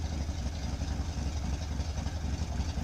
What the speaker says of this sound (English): I just like listening to this bike.